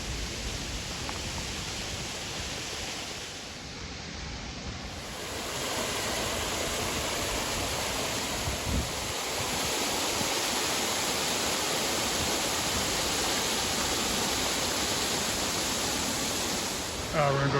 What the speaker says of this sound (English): But there's another waterfall on the other side here.